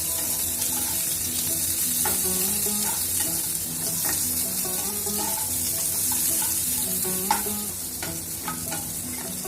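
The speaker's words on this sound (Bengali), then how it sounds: "আলু আর পেঁয়াজগুলো একসাথে ভাজবো।" Potatoes and chopped onions frying together in a pan for a prawn dish, with steady sizzling and repeated stirring scrapes throughout, loud and close, no talk.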